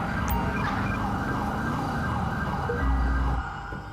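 A wailing ambulance siren in the video game GTA 5 cycles up and down steadily over a low engine rumble, loud and close, then cuts off near the end.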